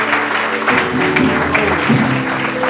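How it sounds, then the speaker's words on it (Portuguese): A church congregation claps together in steady applause, fairly loud and close, with a faint voice or music underneath. "Dá um salve de palmas ao Senhor."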